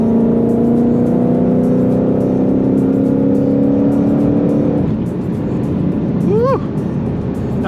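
A Mustang Shelby GT500 accelerating hard at about 80% throttle, its loud, steady engine drone holding for several seconds before easing off, followed by a brief rising whine near the end.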